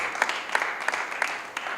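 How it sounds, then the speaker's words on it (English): An audience at a Sunday talk in an ISKCON temple gives a round of applause: brief, moderately loud clapping with regular accented beats about three times a second. "And let's give a round of applause."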